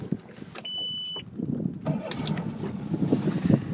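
A 2003 Mercury 40 hp four-stroke EFI outboard on a 1990 Bayliner Capri cranks briefly with a whine, then catches on the first try and settles into a steady, close running rumble.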